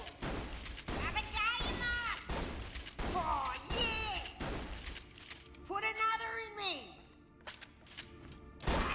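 Rapid shotgun blasts in the video game Borderlands The Pre-Sequel, several sharp bursts of gunfire mixed with sweeping electronic weapon tones and game effects, with voices talking over them.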